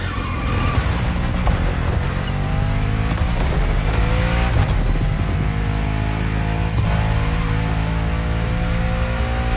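A supercar designed by its main engineer in 2008, originally made for a video game, roars loudly and continuously as it is driven, with engine revving and tire noise steady throughout and no voices.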